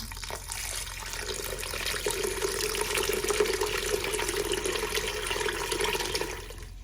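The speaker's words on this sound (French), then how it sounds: "Et je rajoute l'équivalent d'1 litre d'eau, donc c'est de l'eau froide." Cold water pours into a pot for a lentil dish in a steady stream that runs for about five seconds, then tapers off. The gush is close and fairly loud.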